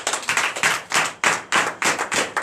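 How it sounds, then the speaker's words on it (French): A church congregation at a night deliverance service in Comè, Benin, claps in unison, sharp rhythmic bursts of group clapping in a steady beat, close and loud. "je vous demande d'applaudir très fort"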